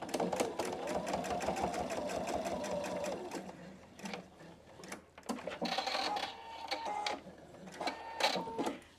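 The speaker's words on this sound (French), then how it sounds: "Donc là, je couds là." A Pfaff Expression 720 sewing machine stitching a straight seam on a pouch, a rapid mechanical clatter of needle strokes in close, even bursts, with short pauses and quieter handling noises between runs.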